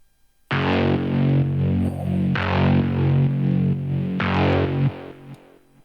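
Crunchy, distorted synth preset run through Diode 1 distortion in a tech house production, playing three loud sustained chords with dense buzzing harmonics, each cut off sharply before the next.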